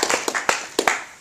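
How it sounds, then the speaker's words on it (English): Audience at a Harvard animal advocacy talk clapping in a brief, sparse burst of a few sharp, loud hand claps, close and separated by short gaps. "if we could give a quick round of applause for them"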